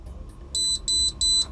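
A small electronic tester for an AceTech Brighter C / Predator MkII, in self-diagnostic mode with the pen inserted, gives three evenly spaced high-pitched beeps in quick succession, close and clear over a low hum.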